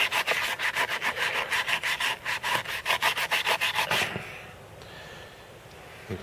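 Hand scuffing of a broken plastic saw housing with an abrasive pad before patching, a quick rhythmic run of about fifteen rasping back-and-forth strokes up close that stops abruptly, leaving faint room noise.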